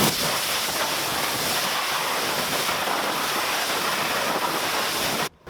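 Water rinsing down a Lexus GSF during a maintenance wash, a loud, continuous broadband hiss of spray that holds steady before cutting off abruptly at the end, with no talking.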